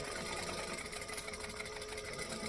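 Sewing machine back stitching a seam on a garment, a fast, even, buzzing mechanical whir with dense rapid needle ticks, close and steady throughout, with no voices.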